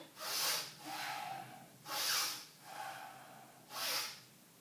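Slow, heavy breathing close up during kettlebell lifting: three loud hissing inhales alternating with softer, longer exhales in a steady rhythm.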